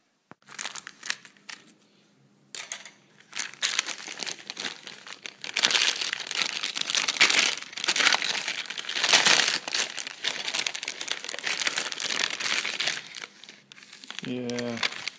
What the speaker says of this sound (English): we'll have to cut open the bag and see if tomatoes can last 2 months